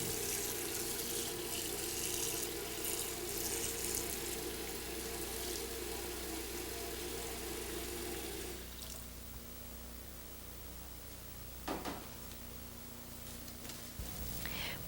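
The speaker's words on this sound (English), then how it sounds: "Then fill the pan with cold tap water." Cold tap water runs steadily into a pan in a commercial kitchen, a continuous splashing hiss that shifts and softens midway as the pan fills, with a brief clatter near the end.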